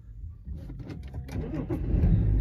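BMW 330d diesel with its exhaust back box deleted cranks and fires, the engine swelling into a rough, rumbling idle that grows louder toward the end, heard from inside the car.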